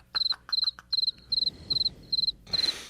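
A cricket chirps in rapid, regular bursts of high trilled pulses, close and clear, with about seven bursts in quick succession.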